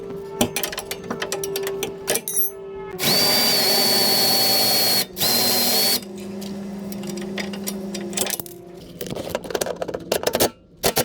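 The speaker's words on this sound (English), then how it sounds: "We're gonna undo this 17mm bolt and then take the spring out." An impact tool loosens a 17mm bolt on a Ksport coilover during installation on a 2016-2021 Honda Civic sedan, firing two loud sustained whirring bursts up close amid garage clatter and handling noises.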